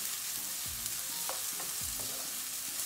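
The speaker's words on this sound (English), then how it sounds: "Make sure you cook it on high flame." Cauliflower Gobi Manchurian is stir-fried on a high flame, with a continuous sizzle of hot oil broken by repeated scraping strokes of a spatula tossing the pieces in the pan, close and unaccompanied by speech.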